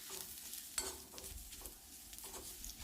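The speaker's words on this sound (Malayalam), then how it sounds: "ഇനി വീണ്ടും നല്ല രീതിയിൽ നമുക്ക് ഇതൊന്ന് വഴറ്റിയെടുക്കാം" Spice powders with pepper sautéing in a pan for a Kerala mackerel curry, a soft sizzle under occasional scrapes and taps of a stirring spoon, quiet and close with no talk.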